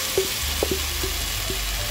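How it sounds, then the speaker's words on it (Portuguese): Potatoes go into a pan of sautéed garlic and onion, setting off a continuous sizzle broken by a few short clinks and taps from the utensil. "Agora vamos adicionar a batata."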